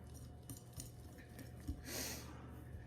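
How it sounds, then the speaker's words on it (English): A whisk stirring cake mix in a bowl: faint, scattered clinks and scraping taps of metal against the bowl, with a brief louder swish near the end, all quiet. "we are going to stir with a whisk, and we're just gonna stir everything"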